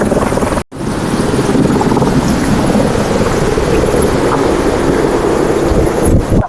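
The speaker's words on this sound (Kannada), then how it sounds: "ಒಂದು ಹೆಲಿಕಾಪ್ಟರ್ ರೈಡ್" A tourist ride helicopter at the Hampi Utsav festival roars loudly overhead in a constant, thudding drone, broken by a brief cut near the start, with wind buffeting the microphone.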